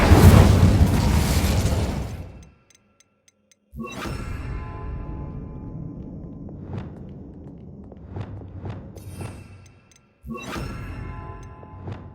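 Incendio fire spells cast in Hogwarts Legacy: a loud roaring burst that cuts to near silence, then a whooshing blast trailing into crackling flares with sharp pops, and a final fiery burst near the end.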